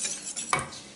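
A spoon briefly scrapes and clinks against a pot while cornstarch is stirred into milk, one short close swirl with no voices.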